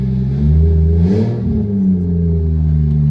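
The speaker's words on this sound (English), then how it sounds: "I'm gonna rev it just a little bit." A cold turbocharged Lexus IS300 with an open downpipe, running about five pounds of boost, idles with a loud low drone, then gets one short rev that rises and falls back to idle.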